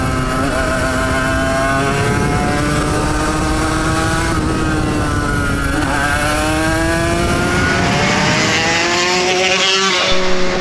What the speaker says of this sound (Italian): Mia che goduria quando la lasci in coppia nella scalata e riapri il gas.